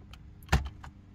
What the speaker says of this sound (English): Start by pulling the dash trim out from the bottom corners, then the upper right corner,